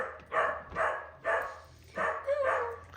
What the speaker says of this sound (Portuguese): Olha o cachorro.